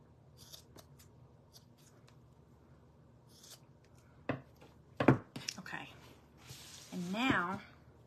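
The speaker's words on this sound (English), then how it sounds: "and then I'll trim these up a little bit." Scissors trim craft material for a rainbow-themed crafting project, with a few crisp snips and soft paper rustling up close; a brief soft voice comes in near the end.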